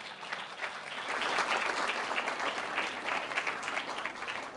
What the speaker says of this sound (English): Ladies and gentlemen, big round of applause for Tara.